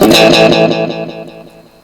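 A guitar run through an old vintage delay pedal with a warm, thick tone rings out loud and close, then its echo repeats trail off and fade quickly into silence.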